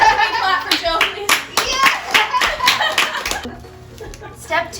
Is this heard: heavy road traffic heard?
no